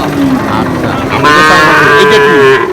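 A calf moos loudly and repeatedly at a busy cattle market, its drawn-out calls rising above steady crowd noise and background chatter.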